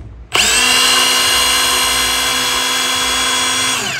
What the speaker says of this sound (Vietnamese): Và đây là khoan không búa.